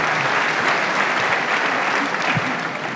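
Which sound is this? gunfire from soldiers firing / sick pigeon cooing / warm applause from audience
warm applause from audience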